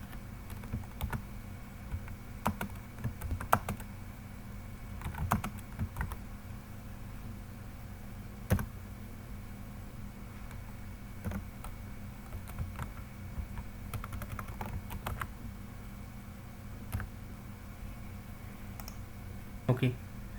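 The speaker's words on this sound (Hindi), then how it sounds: "मैं यहाँ पे टाइप कर देता हूँ।" Typing on a computer keyboard while filling in billing details on an Excel invoice, with soft, quick key clicks in irregular bursts over a steady low background hum.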